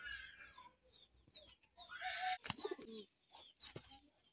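Close by, a short-footed show pigeon coos in soft, low throaty pulses, mixed with other birds clucking and chirping around it in a busy loft.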